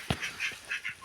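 A duck nesting on a clutch of duck and goose eggs is roused to its feet and gives a few short, close quacks and honks in quick succession, alone with no voices.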